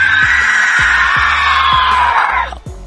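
Dinosaur roar from a Jurassic World skin in Dinosaur Simulator, a video game: a loud, piercing shriek sustained for about two and a half seconds over a rhythmic low thumping beat, then cutting off abruptly.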